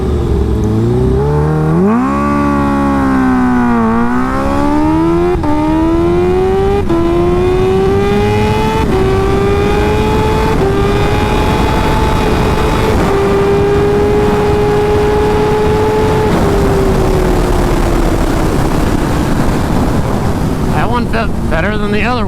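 A Kawasaki Ninja H2 motorcycle accelerating hard on a quarter-mile run, its engine pitch climbing through several gear shifts with loud wind rush over the microphone.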